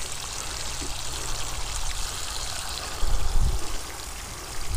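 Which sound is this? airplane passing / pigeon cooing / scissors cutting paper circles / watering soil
watering soil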